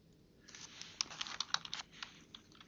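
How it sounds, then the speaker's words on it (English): A quick burst of keystrokes on a computer keyboard, about a dozen light clicks in irregular rhythm, close but quiet. "I'm going to type total"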